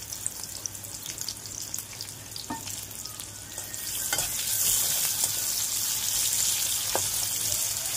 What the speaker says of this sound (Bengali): এখন এর মধ্যে কুচি করা পেঁয়াজ দিয়ে দিচ্ছি